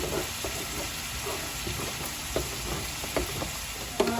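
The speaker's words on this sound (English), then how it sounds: "And I will melt the butter in the cheese grits." Butter melting into a pot of cheese grits gives a steady close sizzle and low bubbling hiss, with a few soft clicks of a spoon stirring, and no talking.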